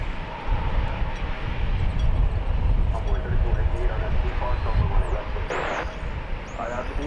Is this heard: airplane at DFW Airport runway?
yes